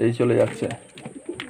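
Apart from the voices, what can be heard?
pigeons cooing during vaccination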